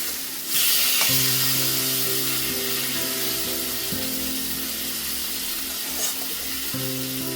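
Rui fish frying in hot oil after being turned over, seasoned with panch phoron: a loud, steady close-up sizzle with faint crackles and a brief clatter near the end, no voices.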